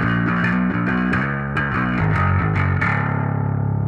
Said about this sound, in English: And this is a ribbon microphone.